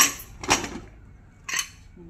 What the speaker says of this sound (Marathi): मी कुकर उघडते आंबे उकडून